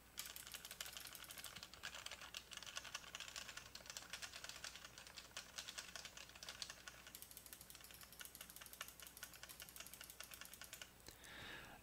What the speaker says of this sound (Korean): 주변 소리를 어느 정도로 걸러내는지 확인하기 위해 키보드와 마우스 버튼을 눌러보겠습니다